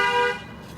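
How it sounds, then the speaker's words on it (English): A car horn gives one steady, fairly loud honk in a traffic jam, then cuts off into quieter road ambience. "You beeping the horn."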